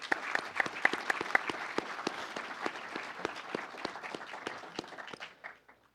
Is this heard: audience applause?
yes